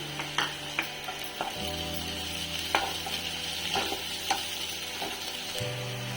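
Onions frying with green chilies and curry leaves in a pan, a constant close sizzle with intermittent clicking stirs and scrapes of a spoon against the pan.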